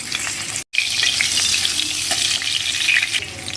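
A spoonful of ghee hits a hot pan for mutton keema and sizzles loudly and steadily, with one brief dropout near the start and no voices.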